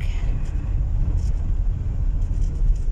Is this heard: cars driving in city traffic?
yes